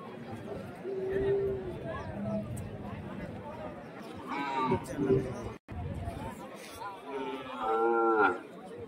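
Cattle and calves at a busy Friday cow market in Krishnagiri district bellow with several drawn-out moos, one loud and close near the end, over constant crowd chatter and people talking nearby.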